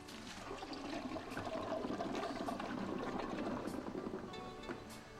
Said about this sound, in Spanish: Un modelo del American Standard es tan potente que ha demostrado descargar 11 pelotas de golf en una sola descarga.